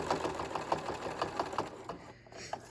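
Sewing machine stitching slowly along a handmade purse strap, a steady close run of rapid needle clatter that eases and pauses toward the end, with no talk over it.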